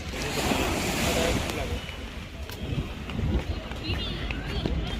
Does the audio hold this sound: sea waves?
yes